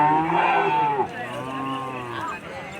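A crossbred calf moos loudly and close at a KMF-organised calf show, one long drawn-out call followed by a softer second low, with people talking in the background.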